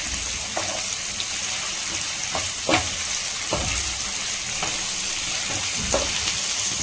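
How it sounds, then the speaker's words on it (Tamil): Chicken roasts in a hot pan for a Sunday non-veg lunch, giving a steady close sizzle broken by scattered scrapes and stirs of a spatula, with no talking. "நல்லா இதை ரோஸ்ட் பண்ணிக்கும்."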